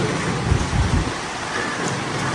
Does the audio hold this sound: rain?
yes